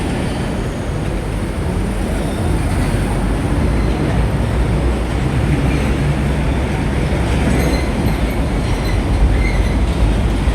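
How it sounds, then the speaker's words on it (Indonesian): A locomotive is unloaded at Tanjung Priok port, giving a steady, loud rumble of heavy rail machinery with faint metallic squeals and clatter throughout, no talk heard. "Sekarang kita akan ikuti penurunan untuk lokomotif yang ketiga"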